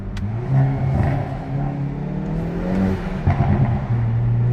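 A 2022 Hyundai i30 N facelift hot hatch engine revs and pulls hard up close near a tunnel, its note rising and falling with gear changes, loud and continuous.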